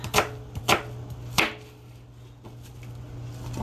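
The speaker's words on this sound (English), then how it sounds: "be a little quicker cutting these onions" A knife chops onions on a board in a few crisp, sharp strikes, three loud ones close together followed by quieter taps, close up and with no voices.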